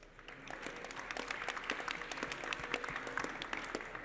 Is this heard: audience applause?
yes